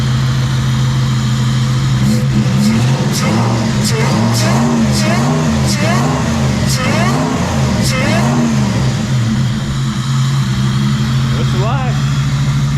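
Supercharged Toyota 1UZ V8 swapped into a Nissan 240SX running after a rough cold start, a loud close idle with a string of throttle blips and revs in the middle before settling back, with a voice speaking briefly.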